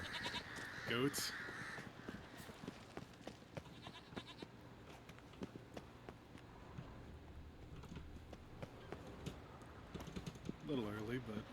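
Goats bleating out in the countryside, two short wavering cries, one near the start and one at the end, quiet and fairly distant over a soft background of clicks and rustling.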